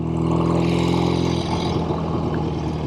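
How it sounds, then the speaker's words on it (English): A 1968 BSA Thunderbolt motorcycle hums steadily while being ridden, a low droning engine note whose pitch drops and turns rougher halfway through, with the rush of wind around it. "This is a very smooth motorcycle."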